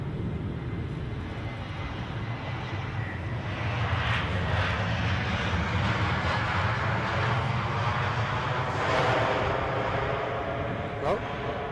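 An airplane goes around at Edinburgh airport in gusty 40 mph wind, its engine roar a broad, sustained rumble that swells and fades slightly as the wind buffets it, with a person talking over the noise.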